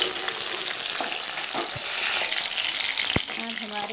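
Pointed gourd (parwal) pieces frying in hot oil, giving a steady dense sizzle throughout with a few brief knocks and clinks of a utensil near the end.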